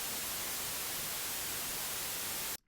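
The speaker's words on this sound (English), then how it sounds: "I have some white noise here that I'm going to layer on top." Synthesized white noise for sound design, a steady, harsh broadband hiss that holds evenly and loud for over two seconds before cutting off abruptly, with no voices.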